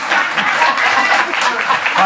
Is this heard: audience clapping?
yes